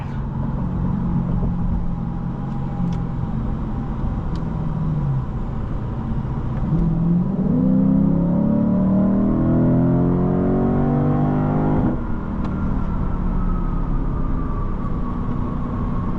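A 2023 Lexus IS 500 F Sport Performance with a naturally aspirated V8 revs hard from inside the cabin, the steady engine drone climbing sharply in pitch through the middle, dropping at a shift, then rising again, loud with no talk.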